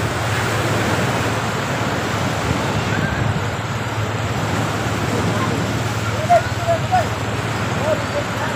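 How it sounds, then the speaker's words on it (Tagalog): Strong sea waves and gusty wind at a beach make a steady, loud roar with wind buffeting the microphone throughout, and faint voices sit underneath. "Hoy, ang lakas ng alon"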